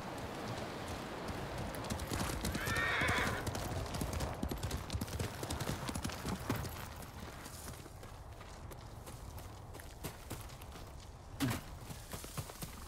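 Horse hooves clip-clop at a steady trot in the video game Ghost of Tsushima, a rhythmic run of close hoofbeats under light ambient noise, with a brief whinny-like cry early on and a sharper thud near the end.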